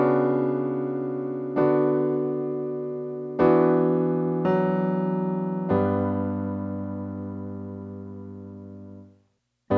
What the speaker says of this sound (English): so the entire chord progression would sound like this